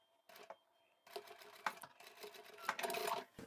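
A sewing machine stitching over the end of a zipper on a small pen holder, with short halting bursts of rapid mechanical stitching, quiet and close, starting and stopping several times.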